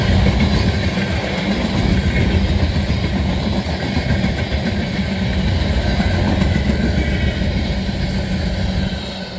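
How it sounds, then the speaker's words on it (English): CSX Dash 9 and Dash 8 freight locomotives roar past at close range, a loud, continuous rumble of engines and rolling freight cars with steady rail clatter and no voices. "Dash 9 leading a Dash 8 here."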